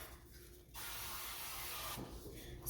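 Avocado oil sprayed from a can onto a warming pan on a stovetop, one steady hiss lasting over a second, close and fairly soft, following quieter kitchen background.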